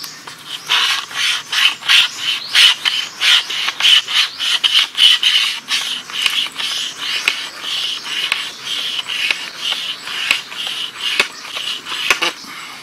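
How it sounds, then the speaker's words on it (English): A sharp knife scrapes and shaves damp wood into tinder pieces for a fire, close and loud, in a steady run of rasping strokes that keep going without talk. "Cut these pieces off and split them up"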